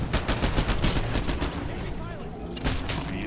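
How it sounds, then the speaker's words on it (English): Rapid bursts of automatic gunfire in the shooter Titanfall, fighting in tunnels, dense and loud at first, then thinning out before a final burst near the end. "Shots fired."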